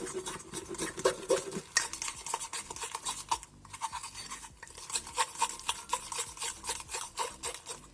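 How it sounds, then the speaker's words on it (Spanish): Mug cake batter with baking powder being stirred in a cup for a healthy sugar-free breakfast, giving steady scraping, clinking strokes of a utensil against the mug at close range, with a brief pause partway through. "Vamos a ir mezclando todo."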